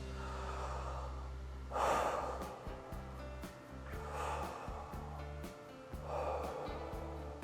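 Deep, audible inhalations repeat during a vocal breathing exercise, three broad breathy swells spaced a few seconds apart over a steady low background tone, with no speech.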